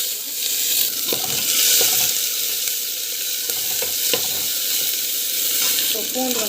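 Onion fries in hot oil with mustard seeds and cumin, a strong, continuous sizzle with occasional stirring clinks close by.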